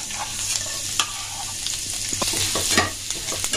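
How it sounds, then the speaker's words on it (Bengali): Chopped garlic sizzles steadily in two spoons of white oil in a pan, with close, crackling frying noise and occasional scrapes of stirring. "রসুন কুচিটা একটু ভেজে নিতে হবে।"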